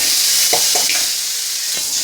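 Chopped potatoes and carrots tumble into a pan of browned onions for vegetable upma, setting off a steady close sizzle and frying hiss with a few soft stirring knocks.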